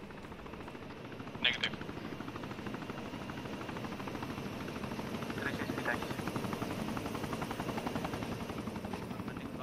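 A helicopter in a tactical shooter game, its rotor thumping steadily and fairly close throughout, with a brief sharp burst early on and a player speaking briefly over it.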